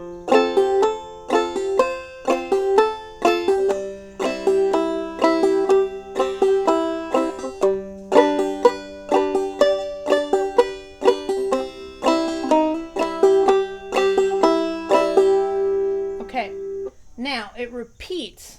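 Clawhammer banjo picks out the first part of the tune Snowdrop, a bright, rhythmic run of plucked notes with steady brushed strums, close and clear, ending with a brief vocal sound near the end.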